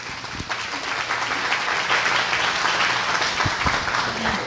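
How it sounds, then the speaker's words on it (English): An audience at a school business meeting claps for Jenna, a steady wash of applause of moderate loudness that runs throughout before fading slightly at the end. "Please give her a round of applause."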